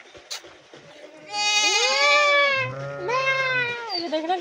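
Sheep and goats on a desi dairy farm in Pakistan bleat loudly and close by, several overlapping calls forming a sustained chorus of wavering cries with a lower bleat joining midway.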